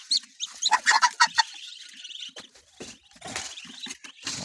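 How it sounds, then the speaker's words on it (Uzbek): Black emerald chicks kept in a pen, offspring of white-headed hens and German black emerald roosters, peep and cluck in busy overlapping bursts, loudest early on and continuing in a softer chorus nearby. "Bu yerda esa отдельно onalarini boshi oq, otalari germanskiy черный изумруд ularni jo'jalarini biz отдельно qilganmiz bu yerda."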